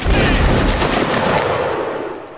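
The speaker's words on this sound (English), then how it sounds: "Some artillery." Heavy, dense Napoleonic-era video game battle noise with rumbling artillery booms and crackling gunfire that rolls on continuously, then begins to fade slightly toward the end.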